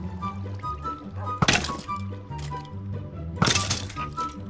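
Minecraft gameplay shooting, two sharp cracking impacts about two seconds apart over a low looping background tone of game music, loud and close.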